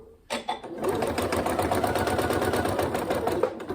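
A sewing machine stitches a zipped pencil case in a fast, steady mechanical chatter after a couple of brief starting clicks, loud and close, running continuously with no voices.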